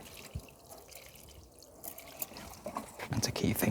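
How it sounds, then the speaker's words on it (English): Garden plants and soil being watered on a summer evening, with a soft trickling and dripping of water over low background noise that grows busier and louder toward the end, with faint voice-like sounds in the background. "So I'm just going to go around and just give them a little bit of water"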